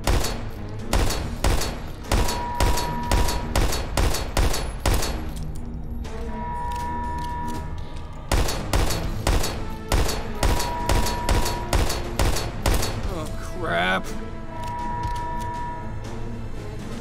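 Rapid bursts of automatic gunfire in the video game Daymare 1998 pound at a Tesla coil, loud sharp repeated shots in long volleys with short pauses between.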